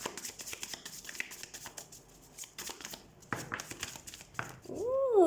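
A deck of tarot cards is shuffled up close in quick, uneven bursts of riffling and flicking, and the run ends on a brief sliding tonal squeak.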